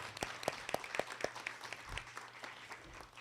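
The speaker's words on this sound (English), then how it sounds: "Let's give them a round of applause." Faint applause at a poetry recitation event, with a handful of distinct claps near the start giving way to a softer, thinner patter from a small crowd, accompanied by a low steady hum.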